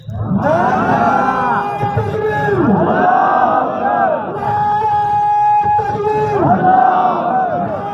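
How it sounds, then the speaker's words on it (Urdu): A large crowd at a religious rally chants slogans in unison, with loud, rhythmic waves of massed voices rising and falling in repeated bursts. "جتنی دیر یہ نعرے لگائیں گے"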